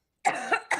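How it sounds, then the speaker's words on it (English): Two or three short, raspy coughs from a person close by, a single loud burst followed by a second a moment later, alone with no talk. "I don't know why I'm coughing all of a sudden."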